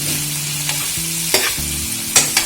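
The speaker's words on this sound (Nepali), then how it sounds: "एकछिन यसलाई छोप्दिने छौं यसलाई फेरि चलाउँदै पकाउँदै गर्ने छौं हामी" Nepali masaura curry being stirred and cooked in a pan, a steady sizzle with a few sharp scraping strokes of the spoon against the pan, close and clear with no talking.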